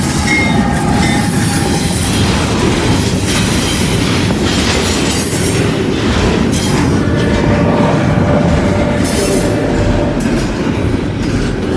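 A CSX intermodal freight train passes close by, loud and continuous, with rumbling wheels, rhythmic clicking over rail joints and intermittent high wheel squeals.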